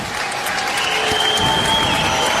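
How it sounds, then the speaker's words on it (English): Football crowd at Coventry City's stadium applauding Callum O'Hare as he comes down to warm up during a match against West Brom, a steady, dense wash of clapping from a large crowd that swells slightly throughout. "Callum O'Hare gets a huge round of applause as he comes down to warm up."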